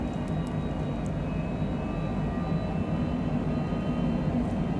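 Cessna Citation Longitude business jet engines during a dawn takeoff and climb out of Haneda, heard as a steady, loud, broadband roar and drone with no pauses and no talk.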